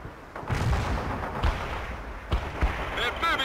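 Grenade launches and explosions from a battle in World in Conflict, with several dull thumps and blasts scattered over a rumbling battlefield and radio-style unit voices partly over the top.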